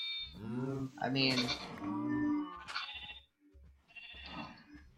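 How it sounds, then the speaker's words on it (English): Cows moo in the Minecraft modpack Sevtech Ages, several drawn-out, tonal calls in a row with brief gaps, while a person's voice talks over them. "Look at all these cows I gathered."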